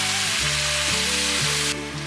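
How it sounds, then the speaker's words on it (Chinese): Cabbage stir-fries in a hot pan with ginger, a steady loud sizzle running throughout, and rhythmic stirring scrapes repeating about every half second. "快速的翻炒"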